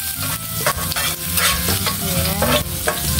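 Chopped garlic frying in a pan for pinakbet, stirred in a run of loud, close scraping strokes over a bright, continuous sizzle, with no voice.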